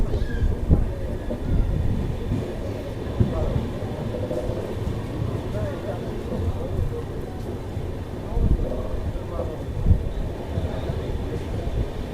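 Paschim Superfast Express pulling into Phagwara Junction station in Punjab, a steady low rumble of the train with rail clatter and wind under continuous voices, moderately loud throughout.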